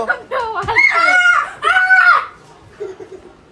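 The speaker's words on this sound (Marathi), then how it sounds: "फायटर कोंबडी आणली आपण" A fighter chicken gives two loud, harsh squawking calls close by, followed by a few softer clucks.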